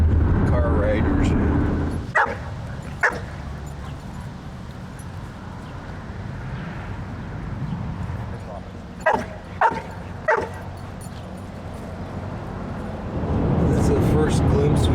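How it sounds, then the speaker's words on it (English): Two dogs riding in a car on a highway bark in a few sharp bursts over the steady road and engine rumble, with talking heard intermittently. "My two dogs, they're great car riders."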